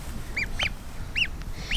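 Goose named Dare honks four times in a steady series of nasal calls, close by, over a low rumbling background with no talking.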